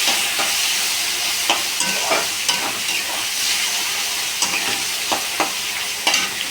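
Taro stolons (kochur loti) sizzle and fry in a pan, with steady frying hiss and repeated scrapes of a spoon stirring them, close and clear with no talk.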